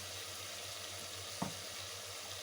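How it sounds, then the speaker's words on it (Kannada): Spices, chilli powder and coriander powder frying with softened tomato in a pan, a steady low sizzle with one brief stir or clink midway. "ಇದು ಹೀಗೆ ಫ್ರೈ ಆಗ್ತದೆ"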